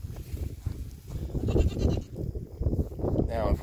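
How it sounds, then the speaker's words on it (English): Sheep and lambs bleat close by on a farm at weaning time, with several wavering calls overlapping under busy background noise and some talking. "Now if we can get the other 2 sheep up there and keep the 2 lambs back here"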